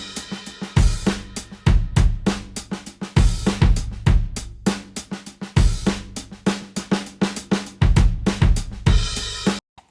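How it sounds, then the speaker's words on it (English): A looped drum break plays in Ableton Live, punchy kicks and snares in a steady repeating groove with bright hi-hat hits, loud and clean with no talk. "Here I've got a just drum break loop that sounds like this."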